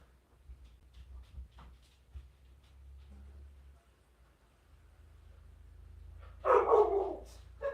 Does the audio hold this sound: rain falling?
no